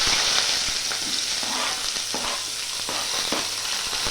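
Garlic cloves, onions and a little poppy seed sauté in a pan for a potato kuruma, giving a loud, steady, close sizzle with faint stirring scrapes and no voices.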